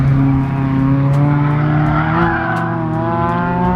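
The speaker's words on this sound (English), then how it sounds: "I love seeing people pushing their cars, especially like a Miata, to its limits." A Mazda Miata is pushed hard around an autocross course, its engine droning and revving in a continuous, fairly close tone with shifting pitch.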